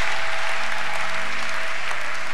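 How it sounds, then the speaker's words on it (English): A church congregation claps during an offering at a sermon, steady continuous applause filling the whole clip at close range. "Give God a clap"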